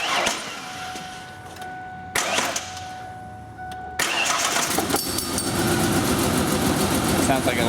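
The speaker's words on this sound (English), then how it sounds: "first start of the Ranger since all the work's been done. It won't start." A 1997 Ford Ranger engine cranks after repairs in three separate bursts of loud, whirring starter grind, the last attempt running on longer into a rough, uneven churn, with people talking around it.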